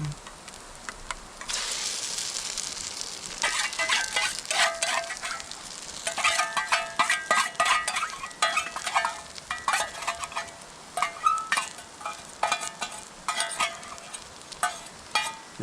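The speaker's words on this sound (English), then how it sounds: "Chop up the eggs a little bit, stir them up some." Farm fresh eggs sizzling in a pan at a campsite while being chopped and stirred, a steady frying hiss broken by repeated scraping and clicking of the utensil, close up.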